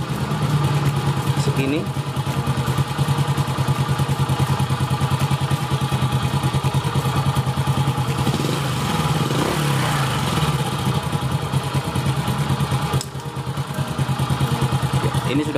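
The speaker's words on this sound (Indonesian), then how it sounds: "Ini kita kecilkan putaran gasnya, cari suara yang langsung ya, tidak mati" A Honda Astrea Grand motorcycle engine idles steadily up close during carburetor adjustment, a continuous low putter with slight throttle changes, while someone talks over it throughout.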